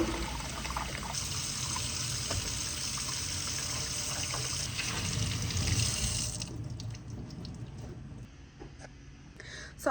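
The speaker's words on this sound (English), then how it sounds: "I'm just filling up the sink with some hot soapy water" Hot soapy water pours from a kitchen tap into a sink on a homestead, a steady close rushing stream that softens to a lighter trickle near the end.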